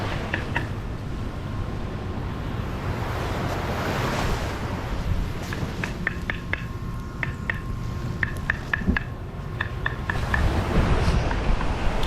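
Ocean waves wash steadily onto a beach in St Vincent, a continuous broad surf roar with wind buffeting the microphone throughout, and faint clicking sounds scattered over the second half.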